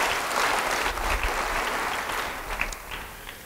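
Church congregation claps together during a sermon, a broad wash of applause that stays fairly even and then thins out in the final second.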